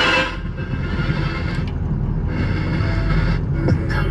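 A 2003 Ford F-250 Lariat crew cab pickup, lifted with 157,000 miles, idles with a steady low engine rumble close by, continuous and fairly loud, with brief higher scraping noises on top.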